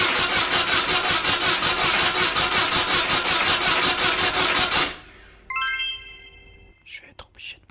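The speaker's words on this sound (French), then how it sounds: "je vais actionner le démarreur et on va voir si la pression monte" A 350 hp turbocharged Citroën C15 engine cranks on its starter with a loud rhythmic churning for about five seconds, then cuts off, followed by brief mechanical ticks and a short voice.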